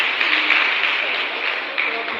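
Crowd applauding a girl who has just won a backpack at a youth development workshop, a steady wash of clapping that runs through the whole moment with voices mixed in.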